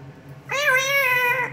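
A grey parrot imitates a cat with a single drawn-out meow, clear and close, with a bright tonal quality, rising then holding steady for about a second before stopping.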